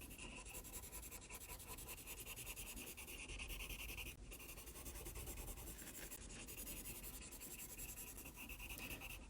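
Prismacolor colored pencil laid down steadily on paper, shading a grayscale night sky, giving a continuous close dry scratching and rubbing with rhythmic back-and-forth strokes and no talking.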